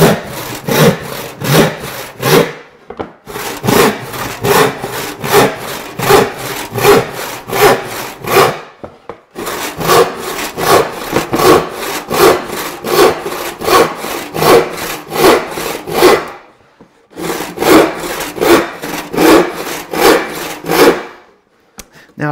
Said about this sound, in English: if you've sharpened your saw well and tuned it well, you'll notice that I can track that line and meet up perfectly with my other cut